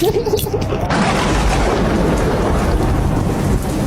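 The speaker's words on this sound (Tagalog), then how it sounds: "My God, it's raining." Loud thunder booms and rumbles at the start, then gives way to a dense, steady roar of heavy rain that continues close and unbroken to the end.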